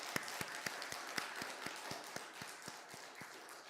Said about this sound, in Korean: 우리 한 번 더 큰 박수로 감사하겠습니다.